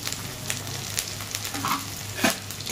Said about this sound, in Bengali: সব দিয়ে ভালো করে একটু মশলাটা কষিয়ে নিই।